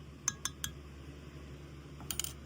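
Metal spoon tapped clean against a container while mixing bait: three quick bright clinks, a pause, then three more rapid taps, close and crisp over a quiet background.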